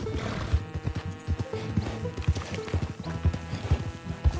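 Horse sounds from a PS4 video game: irregular clip-clopping hooves with snorts and a whinnying neigh, close and fairly loud, with no speech over them.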